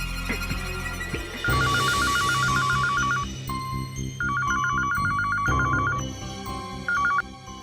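Electronic telephone ringtone in bursts of rapid beeping tones, several repeated rings with pauses between them, fairly quiet over a soft background of other sounds, no talking.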